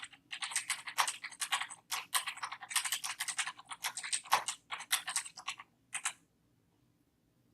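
Rapid bursts of computer keyboard typing as a quick message is entered, close and crisp key clicks in uneven clusters, ending abruptly in near silence.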